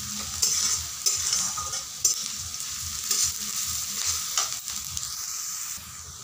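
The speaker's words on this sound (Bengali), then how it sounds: "পেঁয়াজগুলো ততক্ষণ ভাজা হতে থাক" Sliced onions fry in hot oil in a pan for an egg curry, a steady soft sizzle with repeated scraping stirs of a spoon against the pan, no talking.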